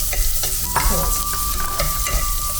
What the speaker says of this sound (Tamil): நாங்கள் ரைஸை ஊற வைக்காததுனால அது போட்டு கொஞ்சமாக ஃப்ரை பண்ணிக்குவேன் அந்த நெய்யில்